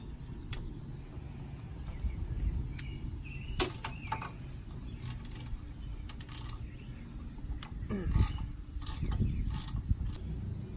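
Ratcheting and clicking of a wrench removing four 18 mm bolts from the rear axle of a Jeep Wrangler JKU, with intermittent metallic clicks and tool handling over a steady low rumble of shop noise.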